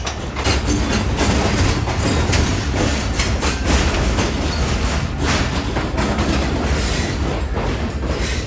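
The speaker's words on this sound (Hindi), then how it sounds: "नहीं, ट्रेन निकल गई।" A train pulls out of a station, a loud continuous rumble with dense rhythmic clatter of wheels on rails, heard close throughout.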